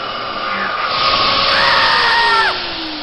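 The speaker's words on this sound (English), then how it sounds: "Alex got his thing stuck in the vacuum cleaner again." A household vacuum cleaner runs with a loud steady whine, its pitch rising as the motor spins up and then dropping sharply at the end, close and dominant.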